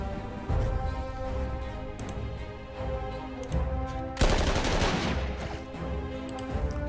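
Wehrmacht infantry opening up with rifle and machine-gun fire in the wargame Panzer Corps 2 during Operation Barbarossa, rapid repeated shots and a dense volley midway, loud over steady background music.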